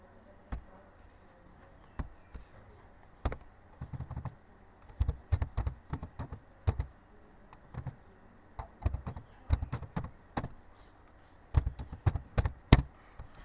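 Keys clatter on a computer keyboard while a website address is entered, coming in uneven bursts of sharp clicks with short pauses between them, close and clear against a quiet room with no talking.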